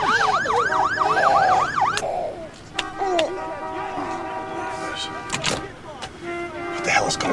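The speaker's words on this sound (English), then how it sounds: "The siren is scaring the baby." Wailing vehicle siren sweeping up and down loudly close by for the first two seconds, then giving way to other sounds. A steady background din continues beneath.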